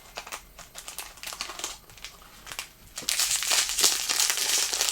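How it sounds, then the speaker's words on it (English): Cardboard box packaging for a Series 43 Bearbrick figure being torn open by hand, a run of crinkly rips and scratches that grows louder and denser in the second half, close up with no talking. "Oh my god, I'm tearing the box up."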